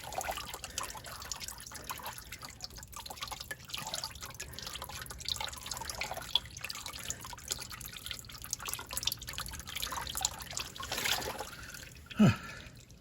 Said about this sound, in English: So there you have the oil draining out.